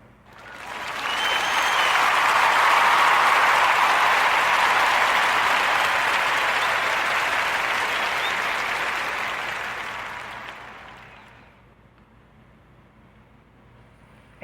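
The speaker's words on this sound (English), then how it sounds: "let's give a warm Narrator Podcast round of applause for our brother Moses Maddox" A podcast audience breaks into sustained applause, a dense wash of clapping that builds quickly, holds steady for about ten seconds, then tapers off and drops to quiet room tone.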